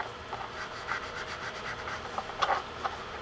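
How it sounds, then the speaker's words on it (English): Steel wool rubbed back and forth on a part from an Ocean City 9XX fishing reel gives a soft, rhythmic scratchy scrubbing, close and fairly quiet, with a few sharper scrapes near the end. "it's back to this steel wool here. Just to clean that up"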